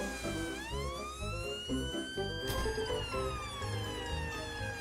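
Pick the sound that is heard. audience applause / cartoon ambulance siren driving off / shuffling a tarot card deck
cartoon ambulance siren driving off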